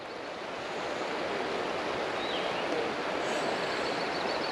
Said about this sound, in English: Looks like we've got a bit of a water crossing this morning.